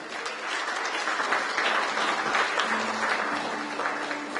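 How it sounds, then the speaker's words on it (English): A crowd applauds dignitaries at a live-streamed FADA event in Delhi, sustained even clapping from a sizable audience filling the hall throughout. "Let's give the dignitaries a big round of applause."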